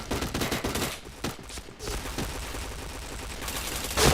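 Sustained gunfire from a first-person shooter video game, a fast stream of shots that thins out partway through and then builds again with a loud burst at the end.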